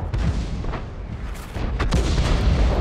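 Tank cannon fire in the World of Tanks video game, with booming low-end blasts and rumbling bursts running throughout at steady loudness, no talk over it.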